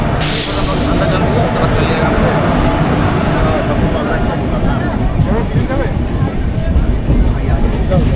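A Kantabanji Ispat Express passenger train pulls out of Chakulia station with a loud, continuous rumble and rushing hiss, opening with a sharp burst of air, while a voice speaks over the noise.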